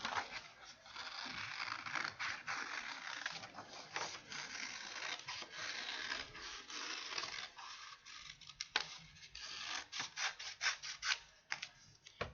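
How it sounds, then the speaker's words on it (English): Close, repeated snipping and rustling as scissors cut through paper in short irregular strokes, fairly quiet with no voices. "go ahead and cut it out with your scissors."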